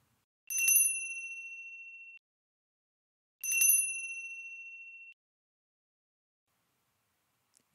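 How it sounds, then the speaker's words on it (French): A bright, high bell rings twice, each strike leaving a clear metallic tone that fades over about a second and a half, with silence between and after. "Une cloche."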